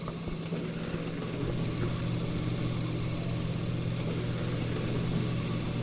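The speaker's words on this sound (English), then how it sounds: "This tractor hasn't ran in years, but today, she wakes up." An old farm tractor that has sat unused for years rumbles with a steady, rough engine drone that swells slightly after a second and then holds at a constant idle.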